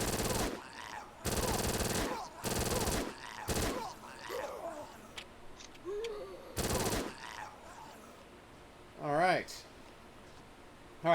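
An Uzi submachine gun in a zombie shooter video game fires several sharp bursts in quick succession, with quieter game sounds and a voice in the gaps between them.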